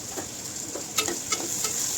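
Chopped onion, curry leaves and tomato sauté in a hot pan with cumin, giving a steady close sizzle with soft stirring scrapes throughout.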